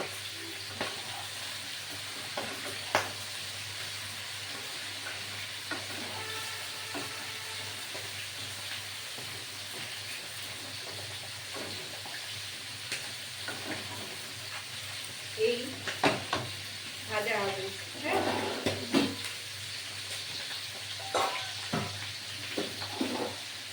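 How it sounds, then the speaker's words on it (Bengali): Vegetables for a Bengali wedding-style chhyachra fry in a pan with salt and turmeric, giving a soft, low sizzle throughout, with louder scraping and stirring clatter toward the end. "এই লবণ আর হলুদ দিয়ে ভাজা হবে দেখুন"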